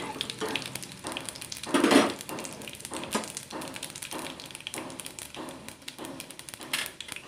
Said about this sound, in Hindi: अब मैं डाल रही लहसुन की कलियाँ जो कूट के रख लिए थे इसे अब हम थोड़ा सा फ्राई कर लेंगे